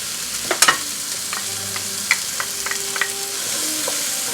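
Bacon, garlic, onions and tomato paste cooking in a pan for a French-style beef stew, with a steady sizzle and a few clinks and taps from stirring, and nobody speaking.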